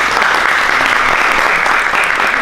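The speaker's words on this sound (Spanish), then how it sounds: "pedirles un aplauso para Jorge que nos acompaña" An audience at a technology seminar claps for a guest, producing a dense, continuous burst of applause that stays even and fairly loud throughout, with no voices standing out.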